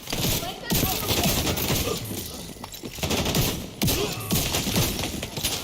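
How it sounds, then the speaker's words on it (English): Rapid automatic gunfire in the video game Division 2, dense bursts of shots with thuds and impacts repeating across the clip, fairly loud and continuous. "Firing on hostile."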